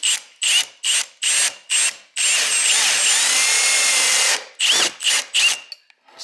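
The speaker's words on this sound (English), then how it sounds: "we'll go in and drill the top off these now." An electric drill cuts the heads off rivets on the quarter vent glass of a 1966 Mustang. It runs in about five short close bursts, then one steady run of a couple of seconds, then three more short bursts, with no talk.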